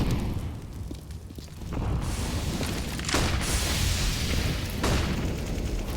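A high-explosive grenade goes off in a CS:GO match on the Inferno map, a broad rumbling boom that swells and holds at steady loudness, with further bursts following, no voices heard.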